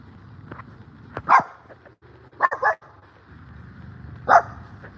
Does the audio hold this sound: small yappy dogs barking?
yes